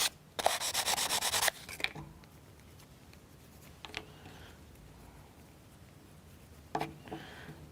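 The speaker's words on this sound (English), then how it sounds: "You can give them some sanding too." Plastic model car wheel parts for a U-9 Grand Prix Car kit are sanded in one loud, rapid rasping burst, followed by quieter scrapes and handling noises.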